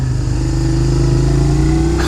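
A motorcycle engine drones steadily and close while the rider downshifts, a loud sustained mid-pitched rumble for about two seconds.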